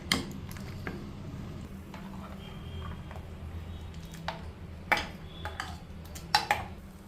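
A spoon stirring ground paste into senagapappu kootu in a pot: soft, scattered scraping and clinks against the pot over a low, steady background, with a few sharper taps near the end.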